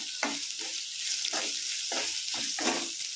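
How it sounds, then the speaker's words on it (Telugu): Tamarind fries in a pan for pudina chutney, a steady bright sizzle with a spoon stirring in several rhythmic scraping strokes, close and fairly loud, without speech. "చింతపండు వేసుకొని ఒక 5 మినిట్స్ ఫ్రై చేసుకోవాలి."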